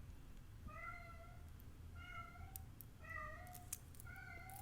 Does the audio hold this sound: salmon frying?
no